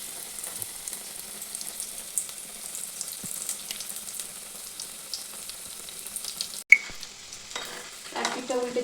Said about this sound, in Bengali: এবার বাদ বাকিগুলো আমি এইভাবেই ভেজে নেবো